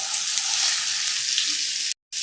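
Steady, dense sizzling of chopped okra frying in hot oil tempering, loud and close, cutting off abruptly near the end.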